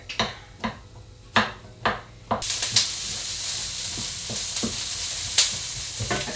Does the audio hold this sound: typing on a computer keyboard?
no